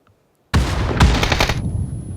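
Loud burst of automatic gunfire in the battle-royale game PUBG during a tournament match, starting abruptly after silence and rattling on as a dense rapid stream of shots with no voices.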